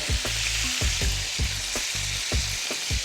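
Pork sizzling steadily in a hot pan as prepared onion is added, with repeated stirring scrapes cutting through the loud, continuous frying hiss.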